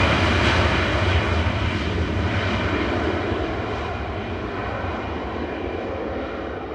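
Helvetic Embraer E190 jet airliner at Manchester Airport, a loud, steady broadband engine roar with a low rumble that fades slightly as it passes, no voices.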